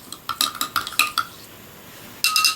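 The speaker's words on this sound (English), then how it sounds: "Then of course you stir it up." A spoon stirs chia seeds in water inside a glass, giving quick bright clinks and scrapes in close bursts, a short pause, then another clattering run of taps.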